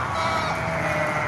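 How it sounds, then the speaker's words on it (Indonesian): An Arab breed chicken on a date plantation farm near Bahra, Jeddah, clucks in a steady stream of soft, close calls, heard alone with no talking. "Tuh, ini ayam Arab nih."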